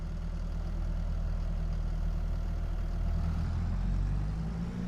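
A tractor engine in Farming Simulator 22 runs steadily at idle with a low, continuous rumble and throb, close and even throughout, with no talk.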